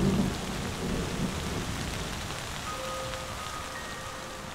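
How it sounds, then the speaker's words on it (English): Rain falls steadily on the savanna of Kruger National Park in South Africa, a broad, constant hiss with a low rumble of thunder opening the stretch and fading into the downpour. "As the seasons march on, the rains return."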